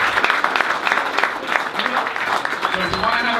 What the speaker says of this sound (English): Another round of applause for him.